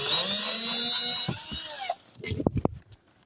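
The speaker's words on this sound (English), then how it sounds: "So let's start by taking this screw off." A cordless power driver whirs steadily as it backs a screw out of a BMW E60 530i dash panel, then cuts off, followed by a few close clunks and rattles of handling.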